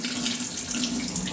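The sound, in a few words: tap water rinsing tomatillos in sink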